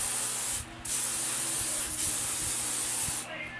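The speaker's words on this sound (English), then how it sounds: "So I'm just spraying some of this thickening spray in it" An aerosol can of thickening hair spray hisses in long, close sprays, with a couple of brief pauses between bursts.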